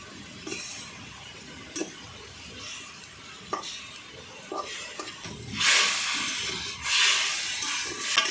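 Amla murabba with sugar, jaggery and water cooks in a pan, giving soft bubbling and stirring scrapes that swell into louder bursts of hissing sizzle toward the end, heard up close with no talking.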